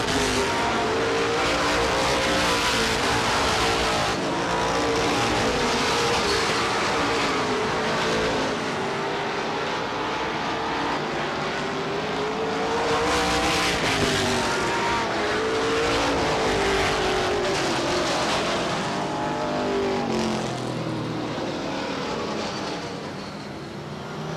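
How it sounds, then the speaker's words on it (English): Race cars at Star Speedway, a loud sustained engine roar with rising and falling pitch as cars pass, swelling and fading over a long stretch of the oval. "Gravel will drive it up there, and Dave Rosenfield will go around here in the front straightaway."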